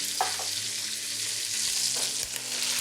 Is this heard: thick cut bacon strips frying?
yes